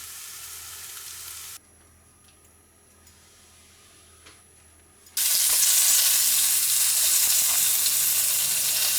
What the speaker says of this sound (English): What I'm doing here is just giving a bit of colour to the edges